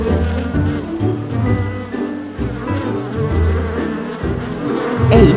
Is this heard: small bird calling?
no